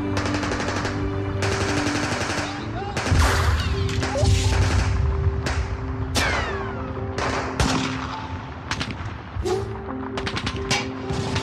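Staged gunfire effect of commandos storming a room at Entebbe airport terminal, with rapid bursts of automatic fire and sharp single shots cracking in dense volleys throughout, loud and close over a low rumbling background.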